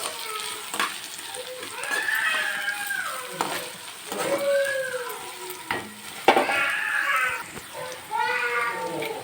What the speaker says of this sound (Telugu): పచ్చిమిర్చి ఇవైతే ఇలా దూరగా వేయించుకోవాలండి